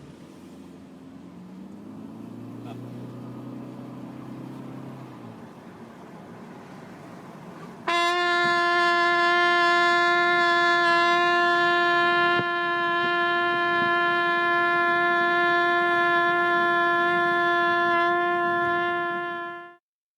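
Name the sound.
trumpet played inside a moving car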